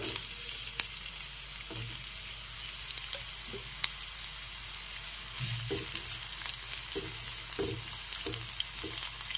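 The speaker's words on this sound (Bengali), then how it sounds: "এখন তেলের মধ্যে দিয়ে দিচ্ছি পেঁয়াজ, ক্যাপসিকাম আর টমেটো। একটু নেড়ে চেড়ে ফ্রাই করে নিতে হবে।" Onion, capsicum and tomato stir-fried in oil in a wok for a paneer roll filling: a continuous soft sizzle broken by regular scraping stirs from a spatula.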